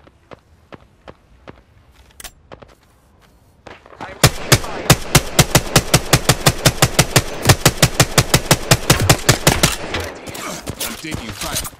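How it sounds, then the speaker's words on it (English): Video game gunfire: a few scattered single shots and footsteps, then a long, loud automatic burst of rapid evenly spaced shots that runs for several seconds before tapering off. "Taking fire."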